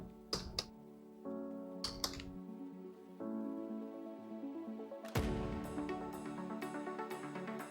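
Computer keyboard typing while writing an HTML file in the nano editor, quick clusters of close, crisp key clicks over a quiet steady background hum.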